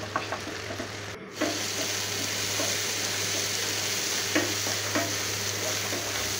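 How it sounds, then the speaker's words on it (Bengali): Shrimp fry in hot mustard oil in a pan, giving a steady close sizzle with stirring and scraping sounds and a brief break near the start. "এই যে চিংড়ি মাছগুলি ভাজতেছি"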